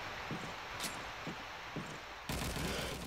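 Gunfire from Call of Duty 2 on the Dawnville map during a competitive LAN playoff match: a few faint scattered shots, then a denser burst of fire near the end, all at low level.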